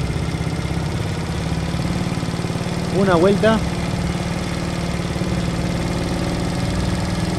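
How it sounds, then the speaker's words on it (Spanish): A small CERRO C70 70cc motorcycle engine idles with a steady, throbbing putter during carburetor tuning; someone speaks briefly over it midway. "Y la moto se va a empezar a acelerar."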